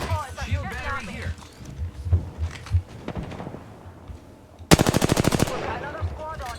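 Automatic gunfire in the Apex Legends shooter on Nintendo Switch: a sharp loud burst of about ten rapid shots near the end, following muffled game effects and scattered earlier shots, with players talking over the action.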